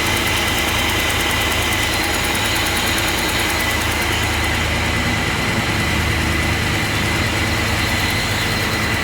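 Repaired truck engine running at a steady idle, a loud, continuous low rumble with no breaks or talk.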